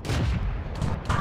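A tank destroyer's main gun in World of Tanks, the T18, fires and scores a critical hit. The blast is loud, heavy and booming, with a deep rumbling tail and a sharp second impact crack near the end.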